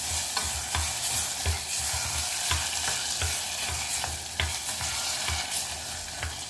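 Tomato paste and chopped tomatoes sizzling in a pan, a steady loud frying hiss with regular scraping stirs throughout, no voices.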